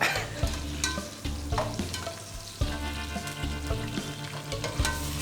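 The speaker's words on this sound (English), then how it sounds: "So we put the ginger and garlic that we have blended. And with the onions. Yeah, into the hot sizzling oil with onions." Blended ginger and garlic hit hot oil with onions in a pan, a steady close sizzle with frequent stirring scrapes and clinks running throughout, no talking.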